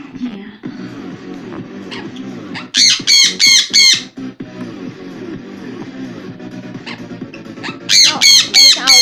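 A pet bird lets out harsh, loud squawks in two separate bursts of several calls each, with a person talking quietly in between.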